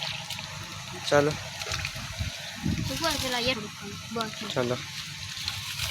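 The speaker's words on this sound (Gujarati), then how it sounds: "હવે નાખી દઈએ પાણી." Water is poured in short splashing bursts into a hanging bird water container at a school in summer, the trickles and gushes coming in uneven spurts while someone talks close by.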